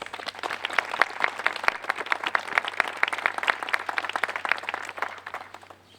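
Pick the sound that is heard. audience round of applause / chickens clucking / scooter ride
audience round of applause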